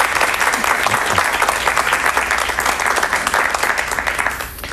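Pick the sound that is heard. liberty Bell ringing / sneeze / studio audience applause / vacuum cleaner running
studio audience applause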